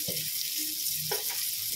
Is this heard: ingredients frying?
yes